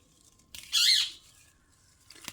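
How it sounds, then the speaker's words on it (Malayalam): A single sharp, shrill squawk from a parrot, brief and fairly close, standing out against a quiet background. "തത്തമ്മ അടന്ന് കരയുന്നു"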